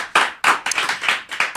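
A few bursts of clapping from a small comedy audience, uneven and brief, rising and fading in quick waves.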